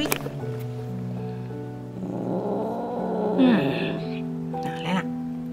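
A frightened, trembling kitten cries in a couple of short, rising meows over steady background noise, with a person talking nearby.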